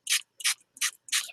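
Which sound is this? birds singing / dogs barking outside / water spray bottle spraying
water spray bottle spraying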